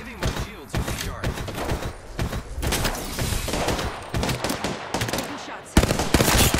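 Rapid automatic gunfire in an Apex Legends firefight, with dense loud bursts and sharp shots stacked over game effects and a voice talking throughout.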